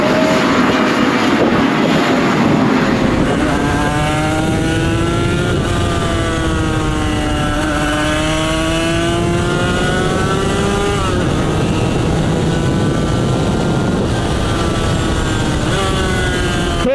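A Suzuki RGV 250 two-stroke motorcycle engine revs loudly and close, its pitch climbing in repeated rising sweeps as it pulls through the gears, with a brief drop between each run.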